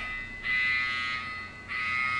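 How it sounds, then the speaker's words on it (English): A LEGO Agents Turbo Car Chase set's toy gate alarm sounds in two steady electronic buzzing bursts with a short dip between them, close and fairly loud. "when Agent Chase pops through the gate, that alarm sounds."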